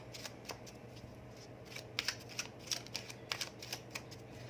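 Tarot cards being shuffled and drawn, a run of soft, close, papery riffles and flicks in quick irregular bursts against a quiet background hum.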